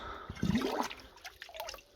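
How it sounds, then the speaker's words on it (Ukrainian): Water is poured into a bucket that already holds about a litre, giving a splashing, gurgling flow in uneven bursts that trails off into lighter trickles and drips. "І знов сюди 9 літрів води я доливаю"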